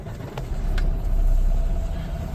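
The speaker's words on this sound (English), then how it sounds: "then you start it up" A Freightliner truck's diesel engine cranks and catches, a low rumbling idle that swells and settles close by, with a few faint clicks at the start.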